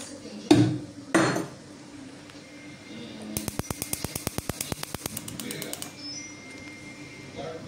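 A knife cuts crab and garlic while cooking: two heavy thuds, then a quick run of about twenty sharp, evenly spaced chopping taps on a board, close and fairly loud, with faint kitchen background.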